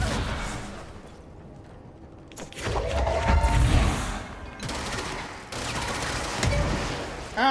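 Bursts of gunfire in the action game Control, coming in two or three loud volleys after a quiet stretch, with heavy low booms and rattling mechanical sounds mixed in.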